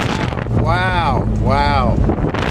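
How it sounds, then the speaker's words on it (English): Strong wind buffets the microphone in a constant, loud roar, with two rising-and-falling whistling tones swelling through it. "it is absolutely horrendous wind"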